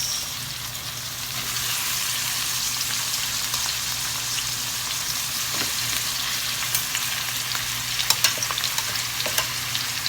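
Boiled, seasoned pork ribs frying in a pan for hamonado, giving a continuous close sizzle and crackle with a few sharper pops toward the end and a low steady hum underneath.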